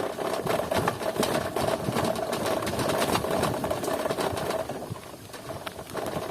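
A FADA IDEA electric bike rides over a rough, bumpy road with a continuous buzzing motor whine and rattling jolts from the uneven surface, close and steady throughout.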